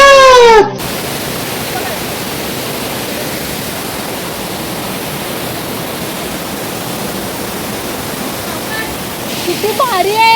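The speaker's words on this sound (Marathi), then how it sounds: "हे धबधबा आहे पाऊस संपला नाही अजून" Devpat waterfall in Chiplun, Konkan, roars as a loud, steady, close wash of falling water during the monsoon, with brief voices at the very start and end.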